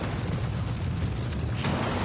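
An explosion in the video game Dark Souls II comes through as a continuous, fairly loud low rumble that holds steady throughout, with no talking.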